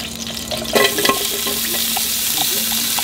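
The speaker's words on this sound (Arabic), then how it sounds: "ونحط الاويل نحط البصل" Onions frying in oil for Kuwaiti machboos give a steady close sizzle and hiss, with a few stirring scrapes near the start.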